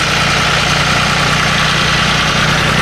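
A tractor engine idles loudly and steadily nearby, a constant low throbbing rumble with a rough mechanical chug and no pauses.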